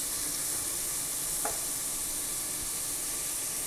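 Food browning in a pan before garlic goes in for a Dominican rice and corn dish, a soft, steady sizzling hiss with one faint clink, quiet and with no voices.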